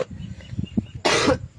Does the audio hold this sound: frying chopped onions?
no